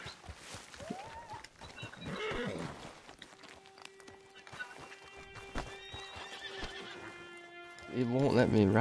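A horse neighs and whinnies while hooves clip-clop, with shuffling movement and a voice talking in between, fairly quiet overall with a louder whinny at the end.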